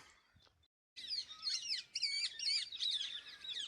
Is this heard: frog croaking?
no